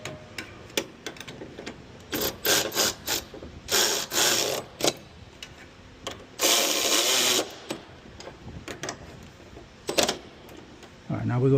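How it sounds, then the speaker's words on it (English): Cordless ratchet loosening a rear shock bolt on a 2016 Ford Mustang GT during a Koni rear shock install, heard as repeated bursts of whirring and clicking with brief pauses, fairly close, with talk between bursts. "I'll go ahead and get it started or get it going with the cordless ratchet."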